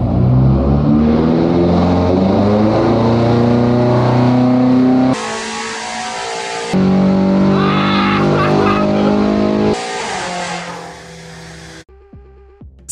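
A BMW M5 with its OPF particulate filters removed revs hard, a loud, close engine roar climbing and dropping in pitch across several surges, with a sharp cutoff near the end.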